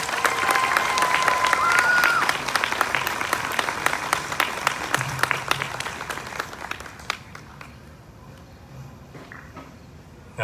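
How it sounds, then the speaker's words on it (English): A crowd at the 2024 Mendota Sweet Corn Queen pageant claps loudly for the contestants, steady applause with a few cheers and voices that gradually thins and fades to scattered claps. "Ladies and gentlemen, your 2024 Sweet Corn Queen contestants, can we please give them another huge round of applause?"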